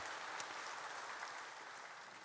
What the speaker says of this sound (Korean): 보이지 않지만 우리 교사들에게도 박수 한번 보냅니다.